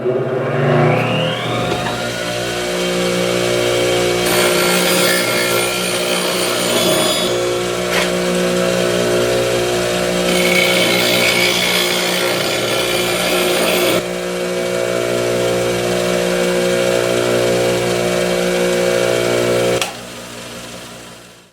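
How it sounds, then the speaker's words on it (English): A wood turning tool is sharpened on a motor-driven grinder that spins up with a rising whine and then hums steadily, while the steel is pressed against the wheel in two sustained, gritty grinding passes; no one speaks. "I'm gonna go sharpen up."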